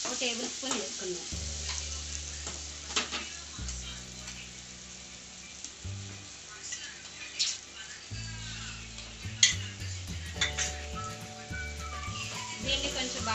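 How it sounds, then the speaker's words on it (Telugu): Ginger garlic paste sizzles and fries in a pan while chicken fry is being cooked, a steady crackle running under background music that dominates the mix. "దీన్ని కొంచెం బాగా వేయించుకుందాం, పచ్చివాసన పోయే వరకు"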